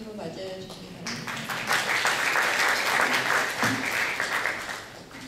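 Audience applause welcoming a presenter at an architecture and urban forum, beginning under a speaker's closing words, then a full, even round of clapping that builds and carries on for several seconds.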